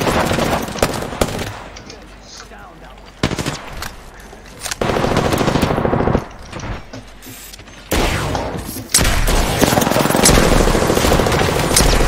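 Gunfire in a battle royale video game: bursts of rapid automatic fire alternate with quieter gaps and mechanical clicks, loud and close, with players' voices talking briefly in between.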